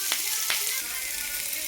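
Onion and garlic with tempering spices frying in oil for a bitter gourd curry, a steady close sizzle with two brief sharper crackles near the start, no talk.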